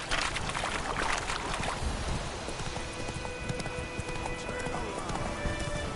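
Hoofbeats from Roach, the horse in The Witcher 3, clop in a brisk, even rhythm amid a washy outdoor ambience like rain or water, with a faint whinny-like tone and soft game music.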